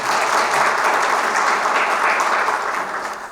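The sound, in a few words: audience applause for lecturer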